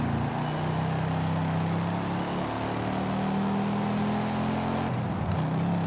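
A classic collector car's engine drones steadily in Forza Horizon 5, a constant low hum with a brief shift in pitch near the end.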